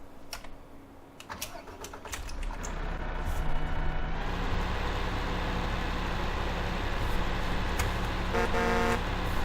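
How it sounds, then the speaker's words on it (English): In Farming Simulator 2015, a lorry's horn blares near the end, a loud, steady tone over a constant engine drone that follows some early keyboard clicking. "good horn on this"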